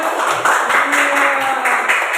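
Classroom audience clapping in an Indonesian school lesson, a steady run of many hands applauding, fairly close and even, with a faint voice briefly beneath.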